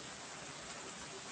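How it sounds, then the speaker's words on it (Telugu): Heavy rain in Guntur falling as a constant, even wash of noise, fairly quiet and unbroken. "భారీగా కురుస్తూ ఉంది వర్షం సౌండ్స్ మీరు చూడొచ్చు"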